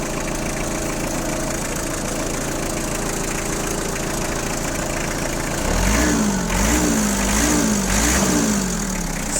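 A cold Kubota GT3 tractor runs at a steady close idle in frost, then revs gently in a few short wavering rises near the end, with no talking.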